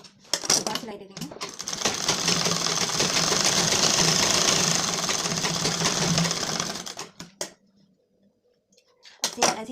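An electric sewing machine runs in one sustained burst for several seconds, stitching tucks on a blouse, a close whirring, rapid needle clatter, with brief starts and stops and a little handling noise at either end.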